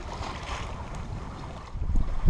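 Engines run on a sailboat under way off the east coast of Corsica, a steady low drone blended with wind buffeting and water rush, growing louder near the end.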